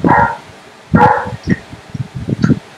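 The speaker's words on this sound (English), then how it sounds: "mayroong maingay na doggy dito" A noisy dog barks nearby, with several short, loud barks spread across the moment and some quieter yips in between. No one speaks over it.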